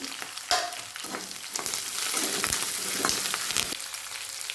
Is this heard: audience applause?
no